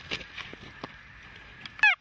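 Snow geese honking in flight during a hunt, a few faint distant calls followed by one brief, louder honk close by near the end.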